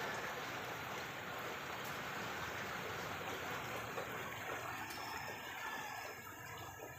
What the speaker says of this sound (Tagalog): Maulan na kabuntagon, mga people.